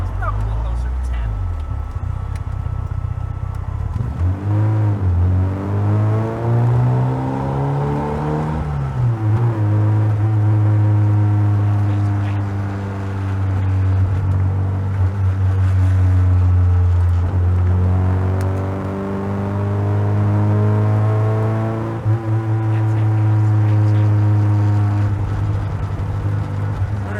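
A rally-prepared 1996 Rover Mini 1.3i drives with its engine droning loudly and close, the pitch climbing through repeated revs and gear changes, while someone talks over it throughout.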